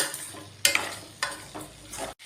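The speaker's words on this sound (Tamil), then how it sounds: "ஸ்டவ்வை சிம்மில் வச்சுட்டு கிளறி விடலாங்க." Spatula scrapes and stirs through plantain slices frying in a pan on low heat, with a soft steady sizzle and a few sharper scraping strokes, no voices.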